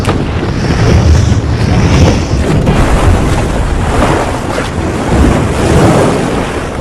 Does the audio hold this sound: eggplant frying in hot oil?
no